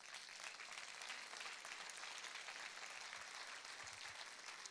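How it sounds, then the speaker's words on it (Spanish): A church congregation applauds during a worship service, giving a dense, steady wash of clapping that is faint and distant and lasts throughout. "Un aplauso al Señor."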